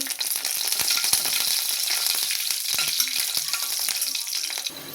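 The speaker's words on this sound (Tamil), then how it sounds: "வெங்காயம் தாளிக்க எடுத்து வச்சுருக்கோம் ஒரு எண்ணெய் சட்டி வச்சுக்கிட்டோம் எண்ணெய் போட்டுக்கிட்டோம்" Onions sizzle in hot oil, a dense continuous crackle and spit with occasional sharper pops and light stirring scrapes.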